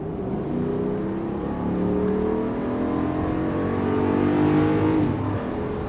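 A 2022 Jeep Grand Wagoneer with a 392 Hemi V8 accelerates in sport mode, its engine note rising in a steady, smooth climb from inside the cabin, heard alone without talk.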